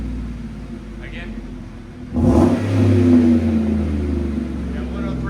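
Loud single rev from a 2016 Chevy Silverado 5.3L V8 fitted with a Magnaflow Magnapack exhaust, resonator delete and dual black tips, climbing sharply from a rumbling idle and holding a throaty roar before easing off.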